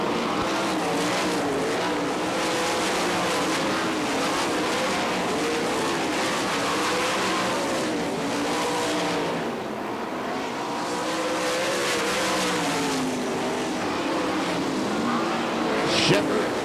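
Sprint cars at a Winternationals dirt-track race in Gibsonton, Florida roar continuously down the backstretch, a dense, loud wall of engine noise with overlapping cars and an announcer talking over it.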